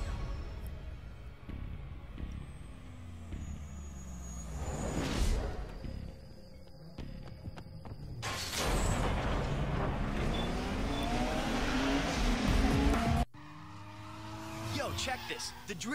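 A front-wheel-drive car drifts in Need for Speed Underground 2, with engine roar and sustained tire squeal rising and falling across several slides, a sharp cut partway, and the game sound staying loud and continuous throughout.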